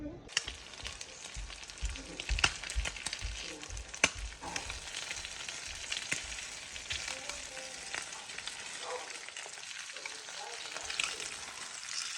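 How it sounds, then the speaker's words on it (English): Patties browning in hot oil in a pan, a dense, crackling sizzle with sharp pops, steady and close, fading slightly toward the end, with no one talking. "I'm just heating up oil and then browning them."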